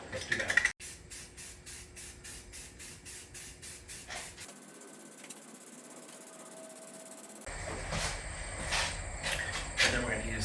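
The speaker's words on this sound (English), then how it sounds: "I'll be using Rust-Oleum self-etching primer." A can of Rust-Oleum self-etching primer sprays in a string of rapid, even hissing pulses, then gives a steadier hiss that grows louder near the end, close by.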